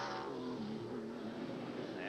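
A V6 Trans-Am race car running on track at a 1990 SCCA race in Des Moines, Iowa, its engine note sweeping and droning at a distance while a commentator talks over it.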